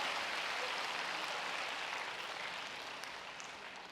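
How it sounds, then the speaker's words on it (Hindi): An audience at a breathing-technique session applauds itself, a dense, even patter of many hands clapping that slowly fades over a few seconds. "चलिए ताली बजाइए अपने लिए।"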